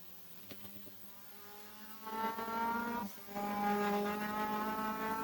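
Race car in the AMS MCR Championship at Oulton Park runs at full throttle, engine rising in a steady high-pitched whine, a brief dip, then climbing again, loud and close with no talk.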